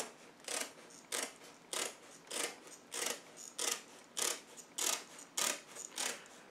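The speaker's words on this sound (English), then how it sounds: "And then cut straight down to the corner as smoothly as I can." Scissors snip through old, washed trampoline cloth in a steady series of about eleven crisp, evenly spaced cuts, close and fairly quiet, with no talking.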